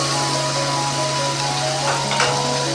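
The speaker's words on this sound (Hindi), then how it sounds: "हमने इसे हल्दी के ऑयल में फ्राई करना है" Potatoes fry in turmeric oil with a steady, close sizzle that continues evenly throughout, with a faint constant hum beneath it and no speech.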